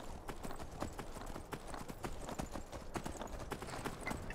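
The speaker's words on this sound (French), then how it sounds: "Je pense que je vais l'appeler Cocotte, mon cheval." Horse hooves clip-clopping in a video game, a steady run of sharp even hoof strikes at moderate distance over faint background sound.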